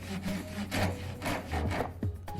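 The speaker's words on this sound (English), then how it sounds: "That noise is a nail." A Japanese flush-cut pull saw rasps back and forth through wood on a dresser, each stroke a close, rough scrape, with a brief harsher catch where the blade strikes a nail.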